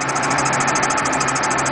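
A Ford E350 shuttle bus with a 4.2 liter engine idling, a loud steady close rumble with an even pulsing whine on top, no voices.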